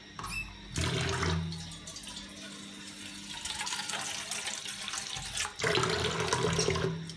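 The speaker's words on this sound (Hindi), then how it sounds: "और थोड़ा पानी लेंगे थोड़ा सा।" Tap water runs loudly into a cooking pot for a soup on a home stove, a steady pouring rush that stops briefly mid-way and resumes, close and alone with no talk.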